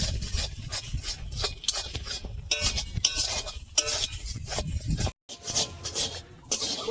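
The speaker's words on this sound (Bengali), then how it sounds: "ভালো করে নেড়ে চেড়ে ডালটাকে শুকনো করে নেবো" A spoon scrapes and stirs sweetened pea dal filling in a pan as it dries, giving a steady run of close rasping strokes with one short gap near the end.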